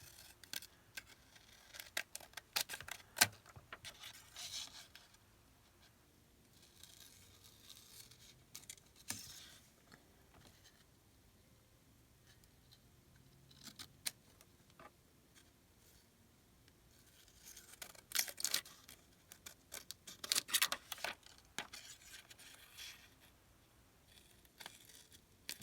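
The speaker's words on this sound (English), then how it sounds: "I'm cutting all the straights first, if I can." Scissors cutting around a playing card for a junk journal embellishment, quiet intermittent snips and paper rustles in bursts with pauses between them.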